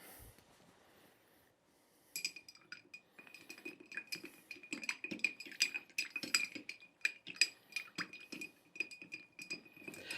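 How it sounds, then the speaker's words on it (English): Ice clinks and rattles against glass as a smoked Old Fashioned is stirred in a steady, continuous rhythm, close by, after a brief quiet start. "Now we stir."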